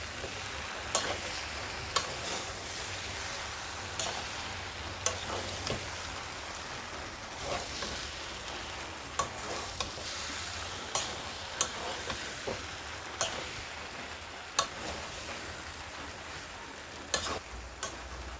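Boiled jackfruit being stirred with spicy masala in a hot pan, a continuous sizzling hiss broken by regular sharp scrapes and taps of the spoon against the pan, close and alone with no talk.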